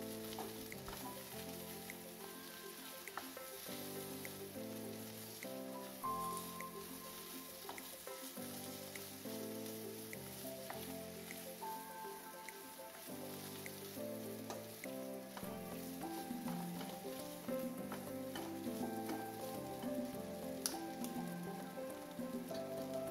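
Sardines frying in a pan with salt and turmeric, a steady faint sizzle running continuously with light crackles, alone without talk.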